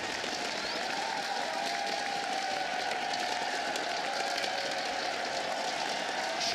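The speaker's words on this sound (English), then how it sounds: "Crowd goes wild for the chicken" An esports arena crowd cheers and applauds in a steady, dense roar of clapping and voices that holds evenly throughout, with faint speech beneath.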